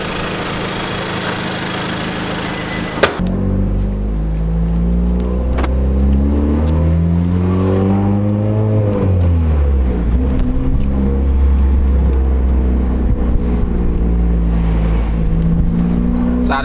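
A Honda Civic Type R FK8 fitted with a flex fuel kit, heard from inside while driving, its engine rising and falling in pitch through several loud acceleration pulls, steady and close throughout.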